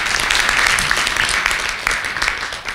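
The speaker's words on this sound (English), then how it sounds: "I think a warm round of applause" Audience applauding at the end of a research-career talk, a dense steady wash of clapping from a roomful of people, fairly loud and continuous before tapering slightly.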